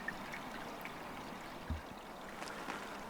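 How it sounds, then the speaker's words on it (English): A weeded stream trickles faintly and steadily through a wildlife garden in autumn, giving a soft, continuous watery wash with a few small splashes and drips. No one talks. "Now we can hear the river running again."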